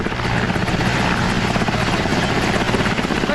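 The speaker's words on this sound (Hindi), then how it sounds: "एयरफोर्स ने हेलीकॉप्टर से उस शख्स को बचाया।" An Air Force rescue helicopter flies over flooded Rajouri in Jammu and Kashmir, its rotor thrum loud, dense and continuous throughout.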